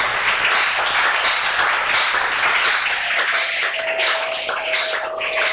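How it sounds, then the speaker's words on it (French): A church congregation applauds loudly and steadily at a French-language intercession prayer gathering, dense sustained clapping with cheering filling the whole stretch, a faint held tone rising near the end. "Acclamons très fort le Seigneur Jésus."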